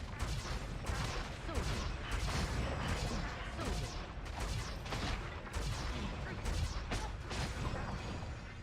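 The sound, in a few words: magic missile spells cast in video game Baldur's Gate: Dark Alliance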